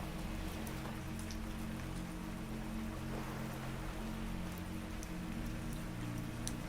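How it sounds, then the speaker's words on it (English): Rain taps against the thick window of a ferry cabin at night, an even, soft patter of drops over a low steady engine hum. "the rain becomes easier to hear. It taps gently against the thick window in irregular patterns"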